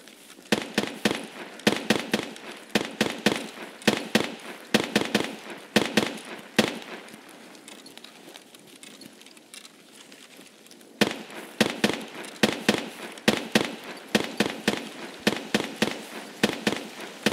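Rapid bursts of gunfire in the video game Escape from Tarkov, sharp repeated shots in clustered volleys that pause for a few seconds of near silence before the shooting resumes, fairly loud and with no voices.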